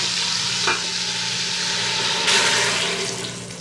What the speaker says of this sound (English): hang on, this is going to sizzle